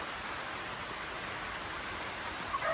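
Steady rain pours down over a roofed spot near a fish market, a dense, even hiss that holds for the whole stretch with no pauses or voices.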